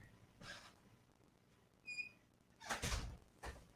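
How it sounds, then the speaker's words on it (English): An indoor door is pushed shut, giving a faint squeak and then a soft thud and click in a quiet room. "I forgot to close the door."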